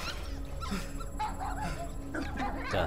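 Puppies in the Guardians of the Galaxy video game give soft, high whimpers and little yips over a low game ambience, close and fairly quiet.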